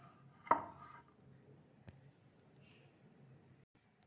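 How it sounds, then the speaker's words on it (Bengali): A knife cuts through taro stolons (kochur gathi) on a board, making one sharp, close chop followed by a fainter second tap in an otherwise quiet moment. "এবার এই গাঁঠি কচুগুলো আমি সুন্দরভাবে কেটে নেব।"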